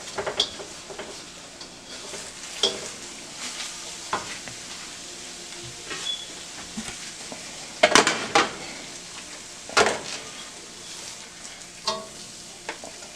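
Eggs sizzle steadily in a pan while a utensil stirs and scrapes them, making intermittent metallic clanks and a few louder knocks against the pan, all close and without speech.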